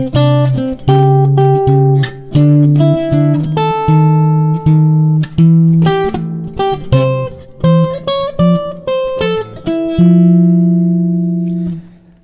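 A cocktail-style guitar picks a steady two-note bass line on the quarter notes beneath plucked chord tones, bright and close, with clear ringing notes and a final sustained chord.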